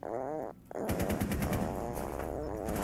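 Rapid video-game gunfire crackles in dense bursts through most of the stretch, loud and close, briefly dropping out near the start before resuming as sustained automatic fire.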